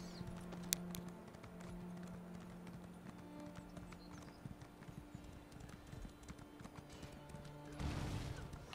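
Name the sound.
horse clip-clopping in Elder Scrolls video game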